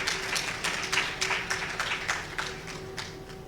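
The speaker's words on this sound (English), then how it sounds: "you give me a round of applause?" Conference audience at an annual research conference giving a round of applause, a soft, fairly distant patter of many hands clapping steadily for a few seconds before fading.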